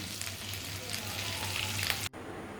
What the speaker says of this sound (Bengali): কখনো গ্যাসের ফ্লেম কমিয়ে কখনো একটু বাড়িয়ে এইভাবে চিকেনটাকে কুক করে নিচ্ছি প্রপারলি